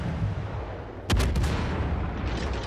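Warship main guns fire in the naval video game World of Warships: Legends, a sharp, loud boom followed by a few quick follow-up blasts, then a low rumbling battle background.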